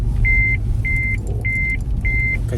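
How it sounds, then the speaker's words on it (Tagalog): Car warning chime triggered by freezing cold, around minus 20 degrees in Canada: four evenly spaced, steady electronic beeps repeating over a low, constant engine idle rumble. "nag-warning yung sasakyan"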